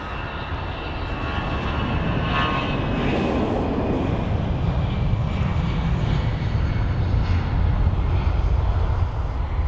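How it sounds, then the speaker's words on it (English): A Finnair Airbus A320ceo departing London Heathrow, its engines a loud, steady broadband roar that builds slightly and holds throughout, with no talking. "Got a departure already, and that is going to be a Finnair 320."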